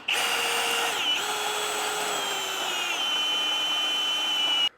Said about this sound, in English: I'm going to start with a 1/2 inch drill bit to get my pilot hole in the center